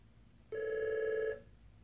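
A telephone rings once during an indoor conversation, a single electronic tone burst of just under a second, fairly faint and alone against a quiet room.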